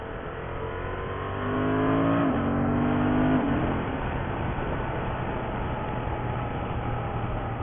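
A new motorcycle fitted with a quick shifter rides along Athens roads, its engine droning steadily with a rising whine and quick gear changes, under continuous wind and road noise.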